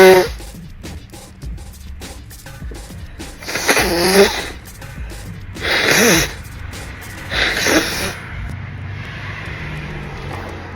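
A woman sneezing, with wheezy breathy intakes building up to several sharp, loud bursts spaced a couple of seconds apart, some partly held back, close to the microphone.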